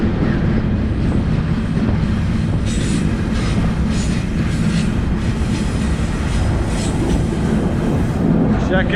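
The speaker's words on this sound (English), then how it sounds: "before it gets too loud again here on the train" A train rolls along the Arizona Peavine rail line with a loud continuous rumble and rattling wheel noise, steady throughout, with a voice talking over it at moments.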